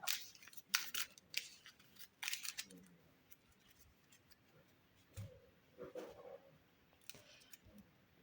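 A deck of cards for the Skytear board game being shuffled by hand on a tabletop, with a quick burst of sharp riffling snaps up close followed by softer scattered clicks and taps.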